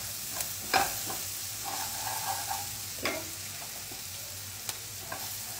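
Onion browning in a pan with a pinch of sugar, a quiet steady sizzle broken by a few sharp spatula clinks and scrapes as it is stirred, close with no voices.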